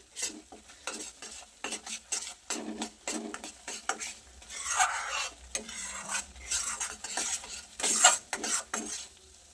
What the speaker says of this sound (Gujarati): ગેસની ફ્લેમ લો રાખી આપણે માવાને પણ સરસ શેકી લઈશું.